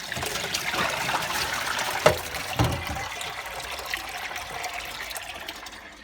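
An Indesit Moon washing machine on a 40 wash rinse cycle, with running water gushing and trickling inside the drum and a couple of sharp knocks, steady and close with no talk.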